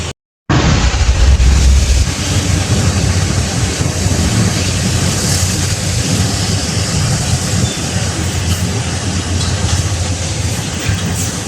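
A loud, continuous roar of sandstorm wind buffeting the microphone at the Manila Bay reclamation area, dense and unbroken after a brief silent start, with no voices.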